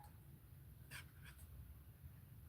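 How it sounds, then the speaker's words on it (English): A dog gives two short, faint yelps a fraction of a second apart, distant and nearly lost beneath a steady low room hum. "I think I just heard a dog yelp."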